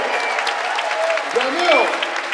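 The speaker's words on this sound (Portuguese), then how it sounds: "Palmas para a bacana Filarmônica Cenas de São Paulo." Brief audience applause for a philharmonic orchestra in a São Paulo concert hall, a bright wash of clapping running under a voice that speaks and calls out over it.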